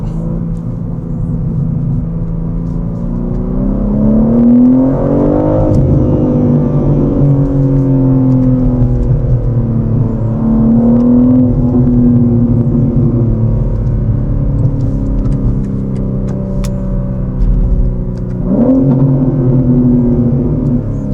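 A 503 hp BMW M3 Competition engine rises and falls through several loud downshifts while driving, with rev blips around 5 and 18 seconds over a steady close-up drone and road rumble, no talking.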